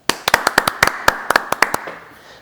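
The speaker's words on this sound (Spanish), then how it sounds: "Un fuerte aplauso para David." Studio audience on a Spanish-language religious TV show applauding an arriving guest: a short burst of sharp, distinct handclaps from a small group, close and fairly loud, fading quickly.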